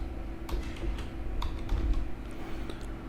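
Typing on a computer keyboard while working in Unreal Engine 4's particle editor, a steady run of close, light key clicks with a few sharper taps over a low background hum.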